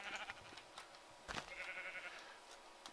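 Sheep in the Minecraft video game bleat faintly a few times in a grassy meadow, with one sharper bleat in the middle over a steady hiss.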